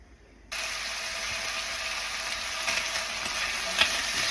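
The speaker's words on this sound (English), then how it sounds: "Brown the chicken up." Steady, bright sizzling of chicken browning in a hot pan starts abruptly and holds evenly, with a few faint scraping clicks near the end.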